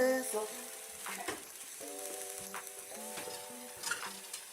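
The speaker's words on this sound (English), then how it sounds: "I hear the sizzle." Food sizzles in a hot pan under a steady frying hiss, close by, with scrapes and a few louder pops while a tonal electronic beep pattern runs over it.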